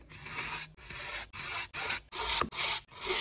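A knife edge is honed on a ceramic sharpening rod in six or seven steady, evenly spaced rasping strokes, close and clear with short pauses between them.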